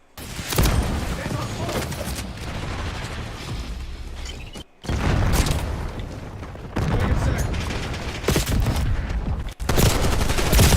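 Call of Duty gameplay with a grenade blast and heavy gunfire: loud, dense bursts of automatic fire and booming explosions in three long volleys separated by brief silent cuts, with game voice callouts mixed in.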